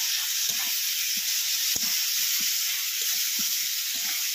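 Tomatoes frying in a hot pan give off a steady, loud sizzle throughout, with occasional soft pops and clicks from the cooking beneath the hiss.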